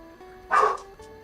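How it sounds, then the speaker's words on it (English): A single short dog bark, close and fairly loud, over a quiet background hum. "who's barking over there?"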